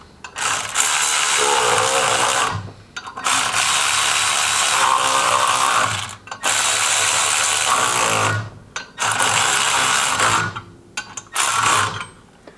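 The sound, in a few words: ratchet tightening clutch bolts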